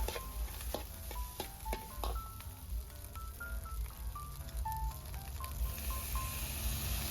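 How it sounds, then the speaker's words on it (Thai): Chinese sausage, egg and cooked rice stir-fried in a pan: a steady close sizzle with repeated metallic spatula clinks and scrapes against the pan, no voices. "ผัดกุนเชียงกับไข่ แล้วก็ใส่ข้าวสวยลงไปครับ"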